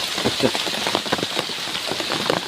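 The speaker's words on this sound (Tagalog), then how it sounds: "Ang lakas ng ulan." Heavy rain pours down steadily, a dense, loud wash of drops drumming on nearby surfaces with scattered sharper patters throughout.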